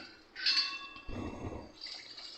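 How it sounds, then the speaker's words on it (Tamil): Water poured into a cooking pot while making sambar rice, a brief splashing pour that rises and settles over about two seconds, faint and close, with no talk. "இப்போ நம்ம இந்த டம்ளரில் 4 டம்ளர் அளவு தண்ணி சேர்த்துக்கலாம்."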